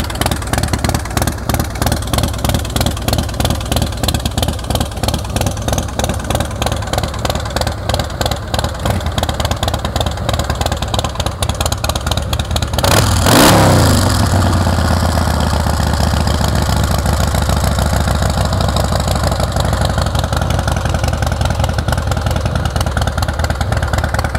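A 2005 Harley-Davidson CVO Fat Boy V-twin idles with a steady, loping thump close by, then a brief burst of revving or starting noise around the middle before it settles back into an even idle.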